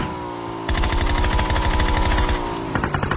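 Automatic gunfire in the mobile battle royale game Peacekeeper Elite (PUBG Mobile), a loud sustained burst of rapid rhythmic shots lasting about two seconds, then a few scattered shots trailing off.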